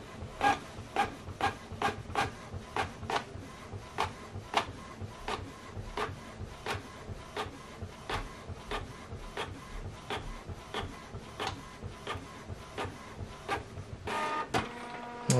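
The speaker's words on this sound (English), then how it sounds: "the second one is printing." Canon printer printing a document, a steady, regular series of mechanical strokes and rubbing feed sounds repeating about twice per second, close and moderately quiet, ending with a brief higher motor whir.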